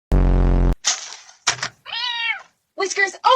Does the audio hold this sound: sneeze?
no